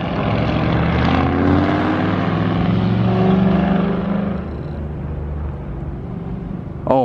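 A little brother's new car sends out a loud, droning engine roar that holds steady and close before easing slightly as it pulls away, the rumble still lingering at the end.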